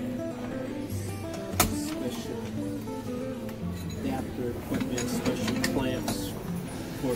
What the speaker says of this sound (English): Special equipment, special clamps for badminton.